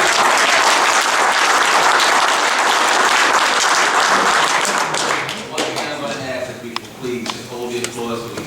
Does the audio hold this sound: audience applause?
yes